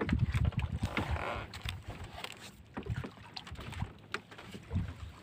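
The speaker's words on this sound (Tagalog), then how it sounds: "Dinuduyan-duyan yung ating bangka." A small fishing boat out on open water for squid, rocking in the swell, with water sloshing and knocking against the hull in uneven bursts, some wind noise over the microphone, and no talking.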